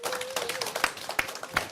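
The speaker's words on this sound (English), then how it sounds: "Ladies and gentlemen, let's give a big round of applause to Dr." An audience applauds at a book fair session, a brief burst of steady clapping from a seated crowd with a faint tone running underneath.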